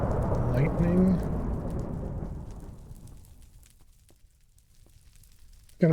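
Rolling thunder with rain in a video game: a loud rumble opens the clip and fades over a few seconds into quiet, with faint patter and a brief burst at the end.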